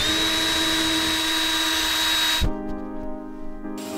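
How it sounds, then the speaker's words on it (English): A power drill whines loudly and steadily while boring a hole into a painted basement wall, then the motor cuts off abruptly and winds down, leaving fainter mechanical hum. "Stick it right below where you're drilling."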